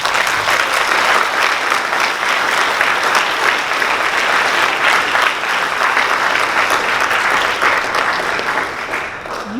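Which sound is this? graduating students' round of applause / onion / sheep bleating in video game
graduating students' round of applause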